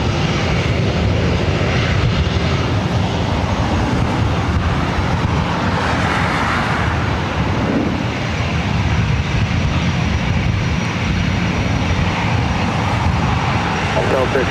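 Loud, steady roar of an aging Northwest Airlines Airbus A320 jet at LAX, continuous broadband engine rumble held across the whole stretch with no break, close by and dominating.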